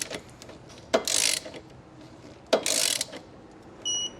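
Torque wrench tightening the bolts of a Stealth Hitches hidden trailer hitch receiver, with two distinct half-second bursts of ratcheting clicks and mechanical rasping, a pause between them, and a brief tick at the end.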